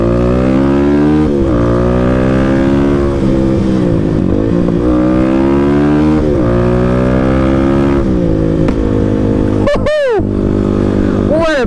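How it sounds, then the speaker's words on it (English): Kawasaki KLX300 motorcycle engine revving steadily and close by, its pitch rising and falling, then a few sharp, loud backfire pops near the end. "What a backfire!"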